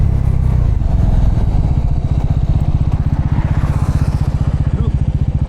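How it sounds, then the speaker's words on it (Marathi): Bajaj 400cc motorcycle engine running close by, a loud steady low rhythmic thump throughout. "बजाज कंपनीने आपल्याला 400 cc ची पूर्ण बाईक दिलेली आहे"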